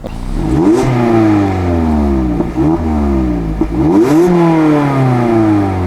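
A sports car engine, from an Abarth 124 Spider or Mazda MX-5 RF, revs up and down in repeated sweeping surges, loud and close, with a steady rumbling idle between the climbs.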